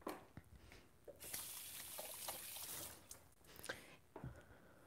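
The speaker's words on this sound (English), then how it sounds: "Then I wash my hands." Running tap water splashes over hands at a sink in a home kitchen during raw vegan food prep, a steady moderate wash with brief breaks and soft handling noises.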